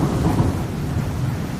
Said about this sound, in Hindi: तभी बाहर जोर से बारिश और तूफान आने लगता है।